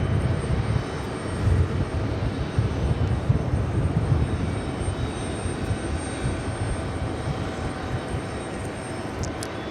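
A Swiss airliner arriving on runway 22 left at JFK airport in New York, a steady broad engine roar with low rumble held throughout at moderate distance, no voices present.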